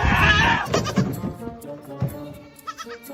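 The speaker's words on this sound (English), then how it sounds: "Goat, huh? Come here." A farm goat lets out a loud, close, wavering bleat right at the start, followed by quieter rustling and shuffling sounds, with a higher squeaky call near the end.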